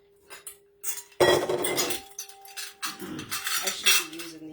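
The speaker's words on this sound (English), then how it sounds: "Getting my enamelware measuring cups." Enamelware measuring cups jingling and clanking together in a kitchen while baking pretzel bread, a burst of metallic clatter followed by lighter clinks and rattles, close and fairly loud with no talking.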